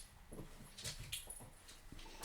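Excited dog whimpering over new Christmas toys and treats: soft, high, intermittent whines and small yips, fairly faint, in a quiet indoor room.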